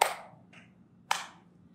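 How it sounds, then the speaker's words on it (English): Two sharp, close hand claps about a second apart, each ringing briefly, with a fainter softer tap between them, keeping time to a children's rhyme. "You can clap along with this one at home"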